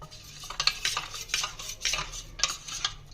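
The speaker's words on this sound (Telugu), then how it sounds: "లమ్స్ లేకుండా కలుపుకోండి" A spoon stirring thick batter in a bowl for butterfly chicken, with soft irregular scraping and clinking strokes repeating at a steady pace, fairly close and moderately quiet, with no talking.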